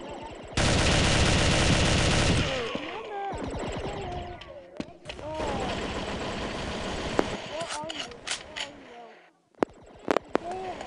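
Rapid automatic gunfire bursts from the Cops N Robbers FPS video game, a dense loud stretch followed by scattered shots and sharp cracks, with players talking over the action.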